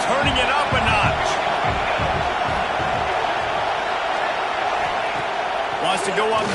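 A stadium crowd roars steadily throughout a College Football 26 LSU versus Arkansas game, a dense loud wall of cheering with scattered thumps.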